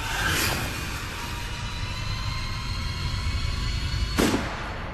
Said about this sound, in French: Des coups de feu ont été tirés.